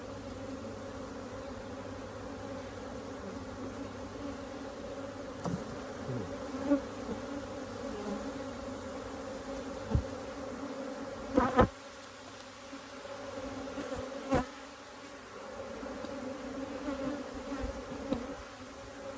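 A dense, steady buzz of many agitated honeybees fills a queenless hive, with a few sharper thumps and knocks breaking through.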